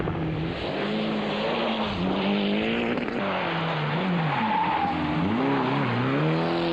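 A Mitsubishi rally car at the 1991 International 3 Städte Rallye is driven flat out on gravel stages, its engine loud and close as it revs up and down through the gears, with tyre scrabble and no voices.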